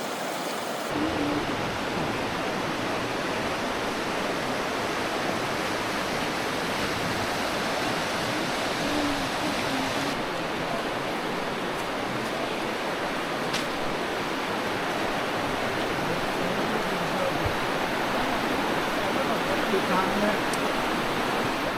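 A steady, full rush of flowing river water, continuous and even throughout, with no voices, along the Riverside Walk in Zion National Park.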